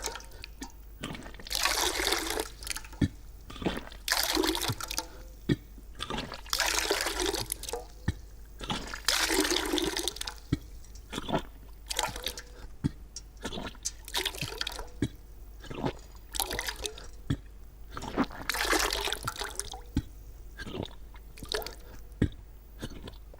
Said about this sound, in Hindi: इस प्रकार से आपने पानी को बाहर निकाल देना है।